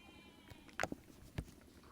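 A sheep in Nha Trang, Vietnam, gives a short, fairly faint bleat, followed by another brief call a moment later against a quiet background with light rustling.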